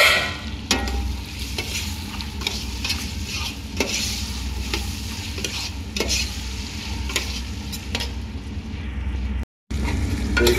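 Diced potatoes and cubed tomatoes cooking in a pan for a Bangladeshi dish, a steady close sizzle with repeated scraping and stirring clatter from a spatula, briefly cutting out near the end.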